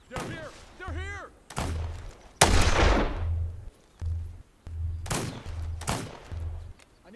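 Gunfire from enemies in the survival video game This Land Is My Land, several sharp loud shots and booming blasts at irregular intervals, with a voice speaking in the gaps.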